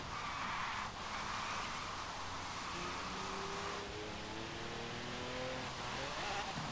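A fast car in the Forza Horizon 3 video game, Hot Wheels add-on, drives with a sustained engine drone that climbs in pitch through repeated gear shifts, with faint tire squeal.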